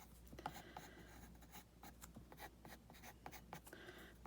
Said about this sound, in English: Very gently, again applying the pencil.